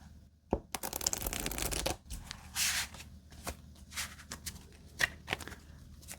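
Jumbo playing cards are shuffled and handled up close, with a long riffling burst followed by soft slides, taps and rustles during a quiet game of solitaire.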